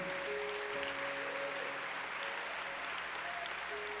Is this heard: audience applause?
yes